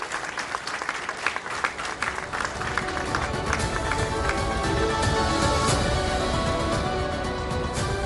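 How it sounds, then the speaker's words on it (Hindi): An audience at a televised political forum breaks into applause that starts scattered and builds into steady, dense clapping filling the hall. "जोरदार तालियों के साथ अभिनंदन करिए जेपी नड्डा जी का।"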